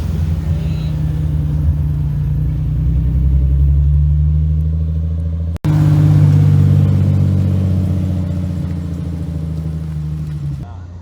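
A car drifting on a street with a reverse entry and e-brake gives a loud, close engine drone that rises and holds, breaks off sharply midway, then returns strongly, with talking over it.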